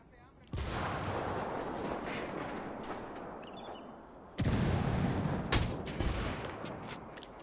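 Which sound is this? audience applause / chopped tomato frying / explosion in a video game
explosion in a video game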